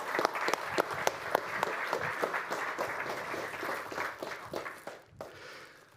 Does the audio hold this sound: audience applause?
yes